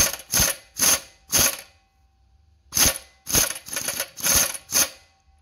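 Ratchet wrench clicking on the seized crank nut of a Subaru 360 two-stroke engine, several loud close bursts of rapid ratcheting separated by a pause, with no talk.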